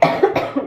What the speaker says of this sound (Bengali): কাশিটা আমার এখনো কমেনি।